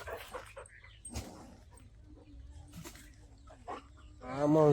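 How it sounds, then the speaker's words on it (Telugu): Small puppies at a farm house whimpering and yipping, with a brief louder whine near the end; people talk nearby throughout. "ఫామ్ హౌస్లో చిన్న చిన్న క్యూట్ పప్పీస్ అనమాట."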